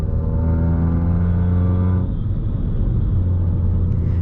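A car engine rumbles at low revs on a six-lane highway with a deep, throbbing, drum-like exhaust note, steady and close, with the tone shifting slightly midway.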